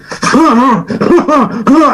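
A voice imitates a deep chest cough, giving several short harsh voiced bursts in quick succession, loud and close.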